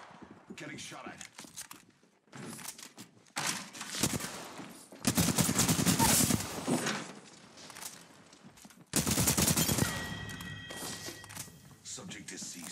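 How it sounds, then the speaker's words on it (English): Gunfire in Apex Legends comes in loud bursts of rapid shots and thuds, separated by quieter gaps, with a voice talking between and over the volleys. "Getting shot at."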